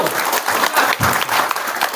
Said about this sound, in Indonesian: Lebih keras lagi tepuk tangannya.